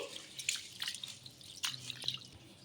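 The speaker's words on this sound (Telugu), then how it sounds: "ఇప్పుడు వీటిని బాగా కడిగేసుకుందాము రేషన్ బియ్యంలో దుమ్ము అలాంటిది ఎక్కువ ఉంటుంది బాగా కడిగేసుకోవాలి" Ration rice being rinsed by hand in a bowl of water, giving soft, irregular drips and splashes that sound close and quiet, with no voices.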